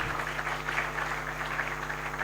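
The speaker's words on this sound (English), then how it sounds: "Please, let's do better with the applause. Let's keep it coming." Audience applause at a panel event on digital governance, a steady wash of many hands clapping that runs without a break under a persistent low hum.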